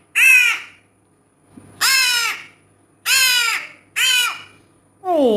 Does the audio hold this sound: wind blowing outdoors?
no